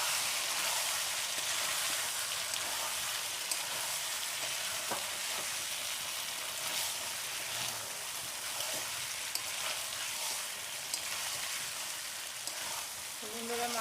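Chicken pieces slow-frying as kasha in a pan, a steady dense sizzle throughout with faint occasional scrapes and clinks, close and continuous.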